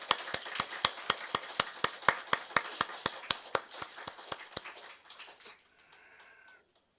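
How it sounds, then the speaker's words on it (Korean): A church congregation claps in a steady, rhythmic unison beat, fairly close, about twenty even claps before fading out to near silence. "우리 하나님께 영광의 박수 올려드리겠습니다"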